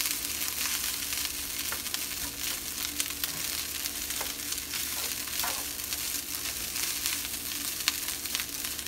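Rice with soy sauce sizzles steadily in a hot pan, a continuous close frying hiss with occasional soft scrapes of stirring and no talk.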